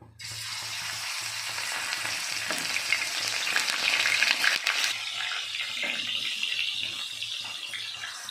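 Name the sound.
fish frying in hot oil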